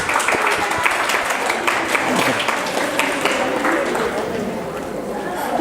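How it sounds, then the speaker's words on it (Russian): Sustained audience applause at an Avar cultural evening, many hands clapping in a dense, even roar with some crowd murmur beneath, continuing the whole time. "Давайте аплодировать нашим ведущим"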